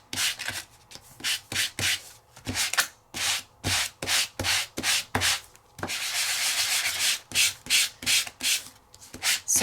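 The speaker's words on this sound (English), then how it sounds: "Let's sand this one." Embossed craft cardstock sanded by hand to expose its white core, close rhythmic scratchy strokes in quick back-and-forth bursts with a longer continuous rub midway, no voices.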